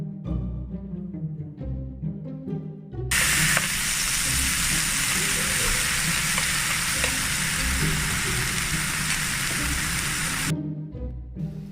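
King oyster mushrooms pan-frying in sesame oil give off a loud, steady sizzle that bursts in suddenly and holds for several seconds, with quieter clinks of stirring before and after.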